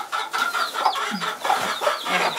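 A group of heritage chickens clucking close by, overlapping bursts of chatter and short calls in a continuous busy stream.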